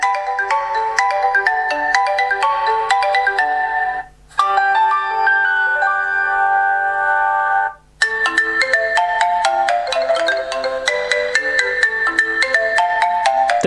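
A ringtone plays loudly through the loudspeaker of an Oukitel C8 smartphone, a bright, rhythmic synthesized melody with two brief gaps between phrases and no talk.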